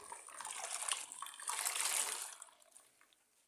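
Water splashes and trickles as a wet kitchen towel is wrung out by hand, two swelling surges of dirty dripping water up close, tapering off to quiet.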